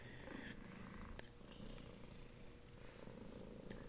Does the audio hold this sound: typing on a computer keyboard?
no